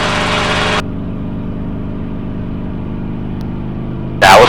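A training helicopter's engine climbs in RPM with a steady, loud mechanical drone and a strong low-frequency hum that runs the whole time. A louder broadband burst comes at the start and again at the end.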